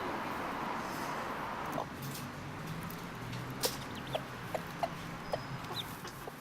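Backyard chickens give a run of short, soft clucks in the second half, spaced irregularly over steady outdoor background noise, fairly close and moderately loud.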